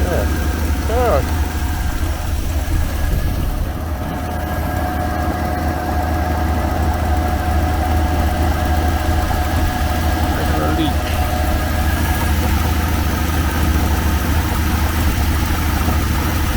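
A Reliant Scimitar GTE engine with a Weber carburettor, its mixture running weak, idles with a steady low rumble close by, while a person talks briefly over it.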